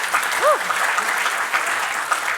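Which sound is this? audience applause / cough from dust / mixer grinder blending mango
audience applause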